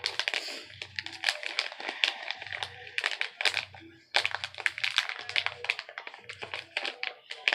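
A small plastic bag holding makeup brushes being handled, with crisp irregular crinkles and taps up close under a low background hum.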